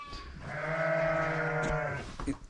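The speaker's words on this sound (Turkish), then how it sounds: "Koyunlar, kuzular." A single long sheep bleat, wavering and nasal, fairly close and clear, followed by faint rustling.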